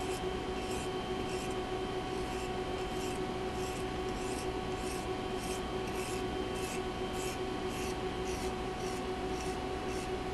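A knife blade stroked over an oiled India sharpening stone, a steady soft continuous rasp with faint regular strokes throughout, close and quiet, no voices.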